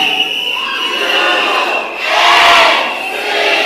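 A massive crowd at a live evening political rally in Chaguanas shouts loudly in unison on cue, a sustained roar that dips briefly and then swells again, with no talk over it.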